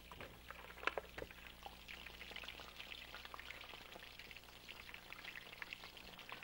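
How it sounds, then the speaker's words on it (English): Fish and onion rings fry in hot oil with a continuous soft bubbling and gurgling, dotted with small crackles and pops. The sizzle is steady and fairly quiet. "The fish is just gurgling away nicely over there."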